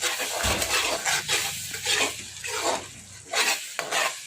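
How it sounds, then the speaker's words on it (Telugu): Ginger paste, chili powder and turmeric being stirred into oil in a pan for an egg curry, loud scraping and knocking of a spoon against metal over a soft sizzle, irregular strokes throughout. "అల్లం పేస్ట్ కూడా వేసేయండి కొంచెం అంతా వేసి మంచిగా కలుపుకుందాము"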